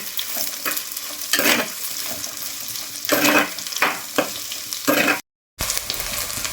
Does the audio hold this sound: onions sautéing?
yes